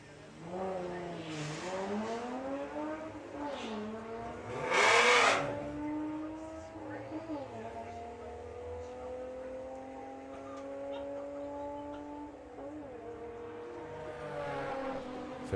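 A VW drag racing car makes a run at the Santa Pod strip, its engine revving up through rising, sweeping harmonics with a loud burst midway, then holding a high steady whine as it pulls away, heard alone without talk.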